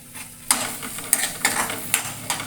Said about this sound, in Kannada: ಮೊದಲು ನಾನು ಏನು ಮಾಡ್ತೇನೆ ಅಂದರೆ ಈರುಳ್ಳಿನ ಹುರ್ಕೊತೇನೆ ರೀ